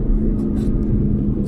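Engine of a 2015 Aston Martin Vantage GT on the move, a steady, loud low rumble with induction noise filling the cabin throughout, heard from inside the car.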